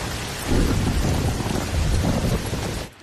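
Heavy rain falls during a thunderstorm, with deep rolling thunder swelling over the steady downpour. Both fade sharply near the end.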